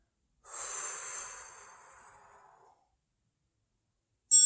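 A single long exhale during a beginner warm-up stretching routine, a soft breathy rush lasting about two seconds that trails off into silence, followed by a brief noise burst at the very end.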